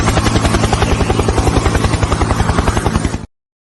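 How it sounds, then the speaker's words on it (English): A helicopter arrives with a loud, close, rapid rhythmic thudding of rotor blades over a heavy engine roar, continuous and steady until it cuts off abruptly. "so he has arrived on the helicopter"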